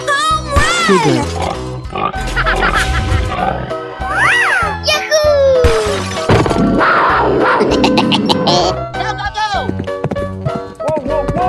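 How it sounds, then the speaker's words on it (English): A pig oinks in a 3D animal slide video game, its grunts buried in a busy mix of game music, effects and childlike voices that play throughout. "Piglet."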